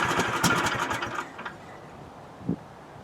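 A Husqvarna TS246XD riding lawn mower engine cranking and briefly catching with a quick run of chugging pulses, then cutting out and fading to near quiet, followed by one faint knock, close by.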